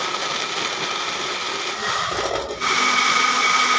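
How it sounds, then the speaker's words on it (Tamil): A mixer grinder blends tomatoes, green chillies and coriander with a steady, loud whirring motor drone that shifts pitch and grows stronger partway through as the jar contents break down. "எல்லாத்தையும் மையம் நல்லா வந்து அரைச்சி எடுத்துக்கிறேன் மிக்சியில் போட்டு"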